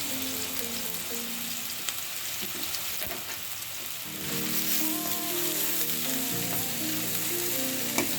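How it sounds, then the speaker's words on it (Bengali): Thin-cut potato strips deep-fry in hot oil, giving a steady, hissing sizzle that grows fuller and louder about halfway through, with faint tonal sounds underneath. "এটা আমি রাইসে ব্যবহার করব, এর জন্য আমি এটাকে ডিপ করে ভাজবো।"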